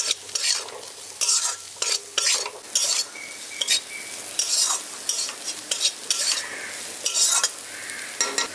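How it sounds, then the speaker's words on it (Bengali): A spoon stirs Kashmiri chilli, cumin and coriander powder through hot oil in a pan for aloo kachuri filling, repeated scraping strokes against the metal over a gentle sizzle, close and alone. "ভালো করে একবার মিশিয়ে দিচ্ছি"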